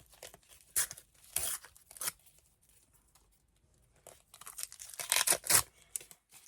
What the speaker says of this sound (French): on continue à ouvrir mes petites pochettes